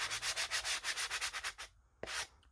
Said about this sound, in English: Sorry if you're one of those people that hates the sound of sanding.